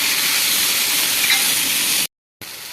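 Mudakathan (balloon vine) greens sautéing in a pan, giving a steady, close sizzle and hiss that runs unbroken for about two seconds, cuts out briefly, then resumes.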